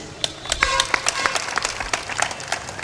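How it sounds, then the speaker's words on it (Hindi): An audience at a spiritual discourse gathering claps in an uneven, moderately loud burst of separate sharp claps, with a voice speaking over part of it. "तो तालियां जोर से नहीं बजी हैं"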